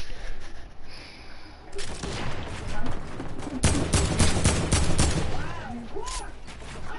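Dense bursts of rapid gunfire crackle in a shooter game, starting sparse and then turning into a sustained volley of close, loud shots, with a player's voice talking over parts of it.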